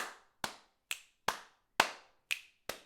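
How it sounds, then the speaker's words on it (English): Seven single hand claps ring out alone in a simple rhythm during a home singing session, each a crisp, fairly quiet smack with a short decay and gaps of about half a second between them. "if you like clapping and clicking"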